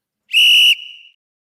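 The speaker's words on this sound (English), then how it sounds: "Why don't we hit the whistle one more, and we'll get to the fourth?" A whistle is blown once to end a quarter, a single sharp shrill blast lasting under a second that trails off quickly, loud and alone with no talking.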